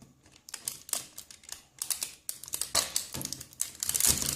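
A French army ration pack, Menu 7 Asiat, being cut open without scissors: irregular crisp crinkling and snipping bursts of plastic packaging, close and fairly loud, with short pauses between them.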